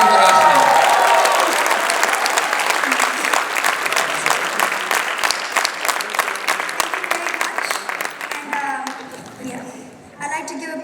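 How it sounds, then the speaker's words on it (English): An audience breaks into loud, sustained applause after a speech, the clapping thinning and fading toward the end. "big round of applause once again for Aashna."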